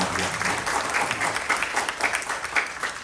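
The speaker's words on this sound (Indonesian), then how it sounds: "Barangkali harus ada aplaus ya," Steady applause from a crowd, continuous clapping throughout with no talking over it.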